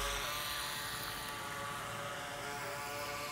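A DEERC DE819 LED RC boat with twin motors runs on water, giving a faint, steady, high-pitched buzzing whine with a soft wash underneath. No one speaks.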